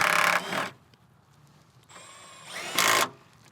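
A Milwaukee M12 FUEL stubby impact wrench driving a bolt on an Outback, giving two short, loud whirring hammering bursts separated by a quiet gap, close by.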